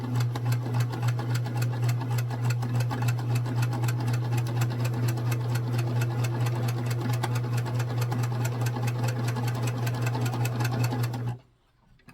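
A sewing machine runs steadily for about eleven seconds, stitching a one-inch strip onto gray quilt fabric for a mini quilt, a close, even motor hum with rapid needle ticking that stops abruptly near the end.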